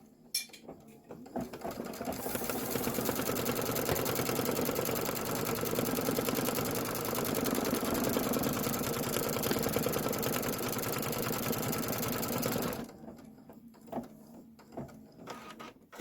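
A home embroidery machine stitches a roof placement line for a quilted general store block, its steady rapid needle whir running for about ten seconds between quieter pauses.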